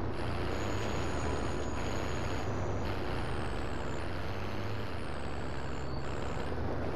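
A truck in a driving video game rumbles steadily throughout, a loud continuous engine drone with whining tones rising and falling above it, no speech over it.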